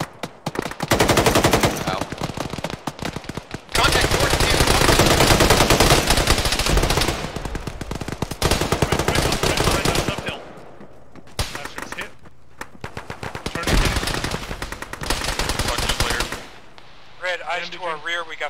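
Sustained bursts of machine-gun and rifle fire in a ShackTac Arma battle, loud close volleys in long rapid strings separated by brief lulls, with shorter distant bursts toward the end.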